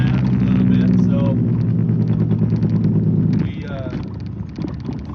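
Truck engine droning steadily from inside the cab while driving, a low rumbling hum with road and wind noise, someone talking over it before the tone drops and softens.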